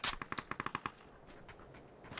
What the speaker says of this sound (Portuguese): Vou dar mais uma chance pra essa arma lixa aqui.